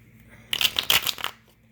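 Tarot cards are shuffled in a quick, close burst of crisp riffling and slapping lasting under a second, with no talk.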